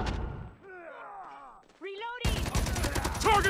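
Dense bursts of automatic gunfire erupt in a Call of Duty Mobile match, loud and close, following a stretch of voices and game sounds.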